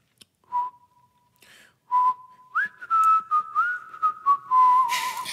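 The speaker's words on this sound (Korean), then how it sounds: "휘파람 부세요." A person whistles on a Korean radio show, with echo added to the studio sound: clear, close whistled notes in short separate bursts, then a longer sustained melody that glides between pitches.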